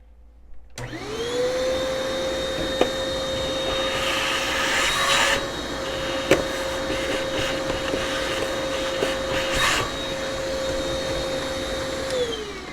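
A vacuum cleaner switches on and runs with a steady high whine while cleaning a Breville Barista Pro espresso grinder, with brief scraping and knocking as the nozzle moves, then winds down at the end.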